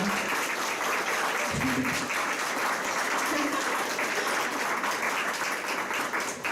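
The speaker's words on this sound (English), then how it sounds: "Can we just give another round of applause for Nina and Rusty?" An audience at a community event gives a sustained round of applause, many hands clapping steadily at full strength throughout, with a brief murmur of voices mixed in.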